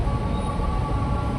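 A KRL INKA commuter train, Indonesian-built, runs at Pasar Minggu station in Jakarta with a steady, continuous rail rumble and a faint tonal whine throughout.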